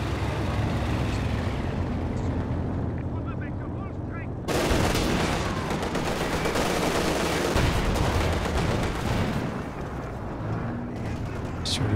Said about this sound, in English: HE barrage coming in from the Jagdtiger